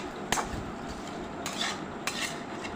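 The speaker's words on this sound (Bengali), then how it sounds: "এবারে আমি সবগুলোকে একইভাবে একটু নেড়েচেড়ে নেব।" Coconut, raisins and other ingredients being stirred in a cooking pan, with a few sharp scraping clicks of a utensil against the pan over a steady low background hiss.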